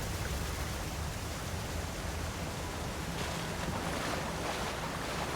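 Water rushing through a cleared aqueduct in Avowed forms a steady, soft, broadband wash of flowing noise, continuous and fairly faint, with no voices.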